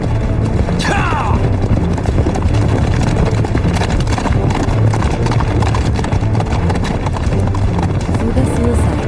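Horses gallop in a battle scene set in ancient China, hooves clip-clopping in a dense, loud, continuous rhythm with clanking gear and mixed background noise throughout.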